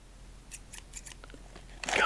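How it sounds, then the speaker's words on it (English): Several crisp scissor snips in quick succession, close by, cutting open a bag of sunflower seeds, followed by a louder rustling crunch at the end. "let me get some scissors"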